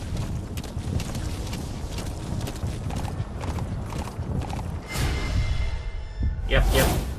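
A horse gallops in Metal Gear Solid V, its rapid hoofbeats running under game sounds and a voice talking over it, with a louder whooshing swell near the end.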